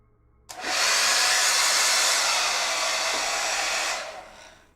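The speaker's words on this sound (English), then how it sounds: "You want to hear what it sounds like with the hairdryer going?" A hair dryer switches on and roars steadily for about three seconds at close range, a loud broadband whoosh, then powers down and fades out.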